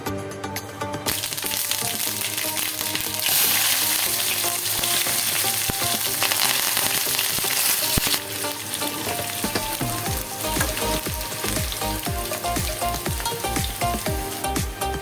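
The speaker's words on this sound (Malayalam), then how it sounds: "കടുക് പൊട്ടിച്ചു കൊടുക്കാം" Mustard seeds crackle and splutter in hot coconut oil in a pan, a loud, dense sizzle running throughout with sharp popping bursts growing more distinct toward the end.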